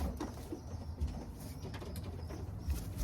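Pigeons held for sale at a camp in Capistrano coo in low, soft murmurs that run steadily under a busy, noisy background.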